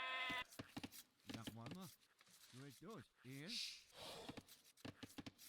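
In the Age of Empires video game, sheep bleat several times in quick succession, their wavering calls mixed in with a voice talking.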